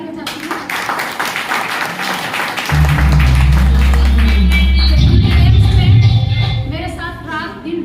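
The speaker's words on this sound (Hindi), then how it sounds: "मैं जबरदस्त तालियां चाहती हूँ" An audience at a celebration breaks into loud applause, with crowd clapping mixed with voices, and a heavy booming low music bed kicks in partway and runs beneath it.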